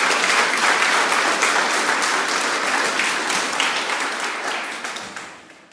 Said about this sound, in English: Can we give our swimming junior champions a clap